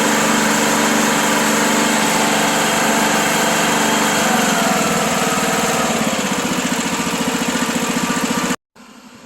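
A John Deere E100 riding lawn mower engine runs steadily after a carburetor change, a loud, close, even drone that holds for about eight seconds before cutting out abruptly, then briefly resuming at lower level.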